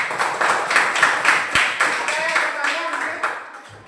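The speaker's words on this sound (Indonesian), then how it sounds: "Ya, tepuk tangan ya." An elementary school class at SDN 2 Kalianget claps hands together in a loud, steady rhythmic beat of roughly three claps per second, with children's voices mixed in.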